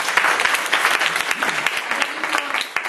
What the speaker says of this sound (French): Je peux l'applaudir.